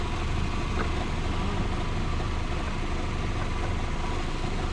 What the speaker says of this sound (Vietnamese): Đó, đang nổ máy nhá, vẫn bật AC bình thường.